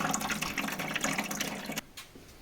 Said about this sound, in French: Commencer à envoyer de l'eau quoi.